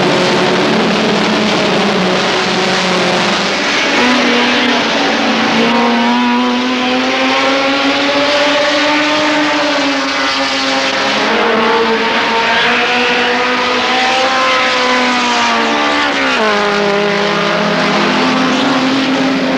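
Saloon racing cars at speed in a 1979 race, engines roaring loud and close as they rise and fall in pitch through gear changes, with several cars passing continuously and no talk.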